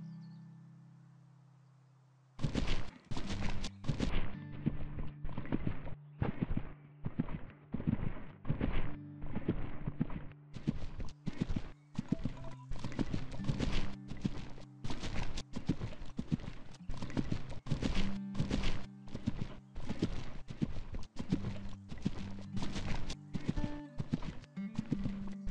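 Horse hooves clip-clop in a steady canter rhythm in the video game Equestrian The Game, loud and close, with the beat running continuously and no talk over it.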